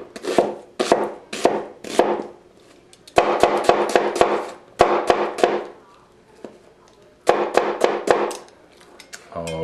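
Knife chopping diced onion on a cutting board while making beef and cabbage soup, with quick bursts of sharp, rhythmic chops separated by short pauses, close and fairly loud.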